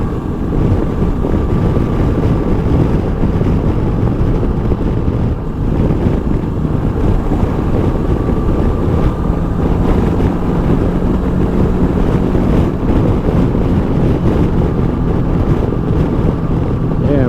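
Gusty wind roars steadily over the microphone while riding a 2019 Honda CB500X motorcycle on the road, a loud continuous buffeting rush with faint engine hum underneath, and no voices.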